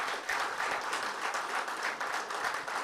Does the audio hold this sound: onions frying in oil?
no